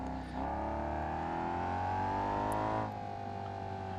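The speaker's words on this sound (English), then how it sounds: "Oh, the high revving V8." High-revving V8 engine of a twin-turbo car in the BeamNG.Drive racing game, a smooth sustained whine that climbs steadily in pitch, then drops sharply as the revs fall near the end, heard alone without talk.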